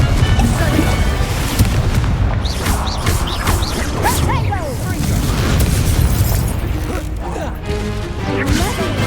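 Spell-casting blasts and crashes in Hogwarts Legacy on hard mode, a loud, continuous barrage of booms and impacts under a voice shouting over the action.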